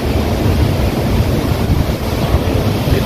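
Large sea waves break on the shore in Region 3 of the Philippines with a steady, loud roar and buffeting wind noise close by, and no voices.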